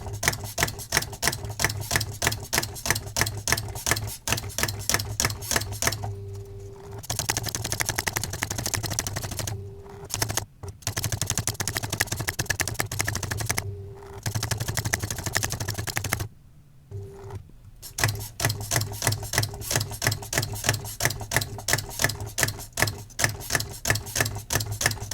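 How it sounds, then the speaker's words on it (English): A loud computer-controlled typewriter rattles off fast, machine-gun-like strike bursts over a constant motor drone, broken by a few short pauses with a carriage whir between long runs of typing. "a very loud computer-controlled typewriter"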